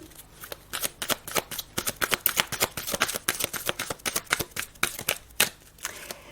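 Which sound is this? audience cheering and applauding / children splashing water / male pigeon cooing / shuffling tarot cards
shuffling tarot cards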